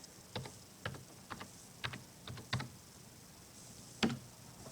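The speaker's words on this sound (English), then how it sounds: "Alright, so I'm going to start typing." Keystrokes on a Logitech G510s gaming keyboard, sparse clicky taps in small bursts with pauses between them, close and clear against a quiet background.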